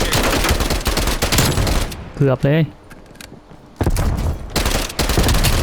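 Rapid bursts of TEC9 submachine gun fire in Call of Duty: Black Ops Cold War, loud and dense, broken by a short pause where a voice speaks before the shooting resumes.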